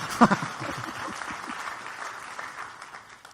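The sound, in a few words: timid applause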